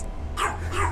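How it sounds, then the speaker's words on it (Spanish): Dogs bark outdoors, two sharp barks in quick succession over a steady low rumble of wind. "Entonces ahí van a escuchar ladridos"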